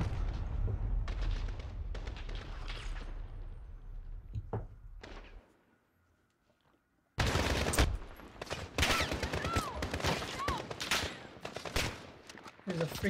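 Sniper gunfire in the video game Call of Duty Modern Warfare: bursts of shots and explosions, a brief near-silent gap, then loud rapid crackling fire resuming close by.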